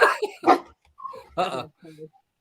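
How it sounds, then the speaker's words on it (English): Excited dogs indoors give short barks, yips and whimpers in quick close bursts, loud against a quiet room, with a human voice mixed in. "We're trying to keep the dogs from getting excited, and like I go live, and all of a sudden the dogs get excited."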